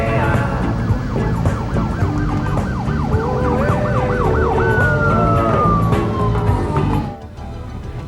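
An LAPD emergency vehicle siren sounds from the driver's right, with rapid overlapping yelps and warbles layered over heavy road noise, then a long descending tone. It cuts off abruptly near the end.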